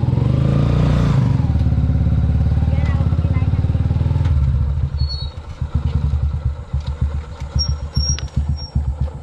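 Motorcycle engine idling and puttering up close at a family birthday gathering, steady low rumble throughout with clattering and chatter mixed in, the engine note rougher and pulsing in the second half.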